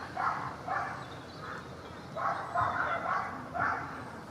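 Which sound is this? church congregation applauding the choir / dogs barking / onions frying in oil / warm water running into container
dogs barking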